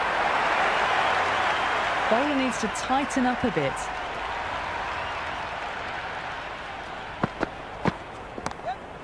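Stadium crowd at a T20 international cricket match between India and England cheering and applauding a boundary, a broad steady roar that runs throughout beneath a commentator's voice.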